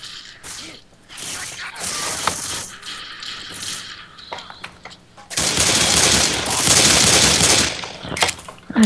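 Gunfire in the co-op zombie shooter Left 4 Dead 2: scattered shots and mechanical clatter, then a long, loud, continuous burst of rapid automatic fire.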